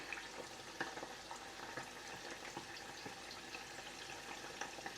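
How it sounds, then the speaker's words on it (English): Steady, soft sizzling and crackling of tofu frying in a pan, with occasional small pops throughout. "I'm just frying some tofu"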